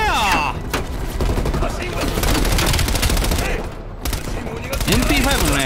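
Dense automatic and rapid gunfire from the AK and MP5 in the Call of Duty: Black Ops Cold War campaign on Realism difficulty, loud and continuous bursts nearly filling the stretch with only a brief lull.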